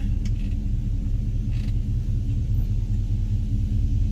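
A 1966 Ford Fairlane running down the road, a steady low engine rumble heard from inside the car with a couple of faint brief clicks, no talking.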